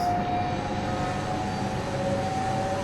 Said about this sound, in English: Did you hear that sound? It's like it's booting up.